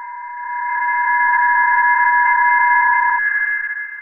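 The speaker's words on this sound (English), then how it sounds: "the sounds you can hear are multiple PSK31 signals" Several PSK31 digital radio signals heard on an amateur receiver: steady warbling tones stacked together, one pulsing rapidly, loud and continuous for about three seconds before part of the signal drops away.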